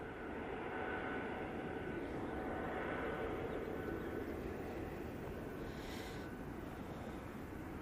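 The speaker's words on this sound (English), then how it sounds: "Beautiful landing there from the Cathay." A Cathay Pacific airliner rolls out after landing at Manchester Airport, a loud, steady broadband jet roar heard from a distance that holds constant throughout.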